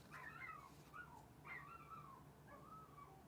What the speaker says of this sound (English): I'm pretty sure you can hear my dog upstairs whining his face off because he can't get out of the room